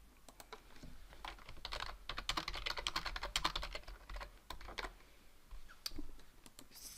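Someone types a chat message on a computer keyboard, giving quiet, close key clicks in quick irregular bursts with short pauses between them and no talking.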